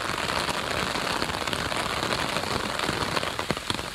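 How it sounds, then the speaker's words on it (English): Heavy rain pours down at Springer Mountain on the Appalachian Trail, a dense, steady hiss of drops striking surfaces close by, loud and unbroken with no speech. "you can see it is pouring down some rain"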